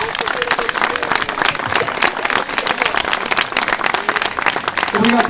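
A crowd at an outdoor folk festival claps loudly for two folk dance groups. The applause is continuous and dense throughout, with crowd murmur underneath.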